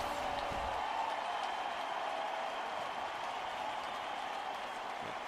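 A stadium crowd roars steadily at an NFL game, Seahawks at Vikings, after the Vikings recover a fumble on a kickoff. The broad, sustained cheer stays loud and constant throughout, with a faint low thump early on.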